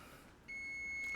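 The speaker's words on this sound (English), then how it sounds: "Timer's about to go off." A kitchen timer goes off while maple chewy cookies bake, sounding a steady, high electronic beep that starts abruptly partway through and holds continuously to the end, fairly loud over a quiet room hum.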